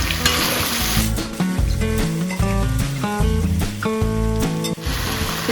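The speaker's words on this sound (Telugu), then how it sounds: "వేయించి పెట్టుకున్న చేపలు కూడా వేసేస్తున్నాను ఇందులో మెల్లగా ఒకసారి ఇలా తిప్పుదాం" Fried dried fish is stirred into a simmering taro and tamarind curry, a continuous bubbling sizzle broken by rhythmic spoon scrapes and clinks against the pot, with a brief bright hiss at the start and end.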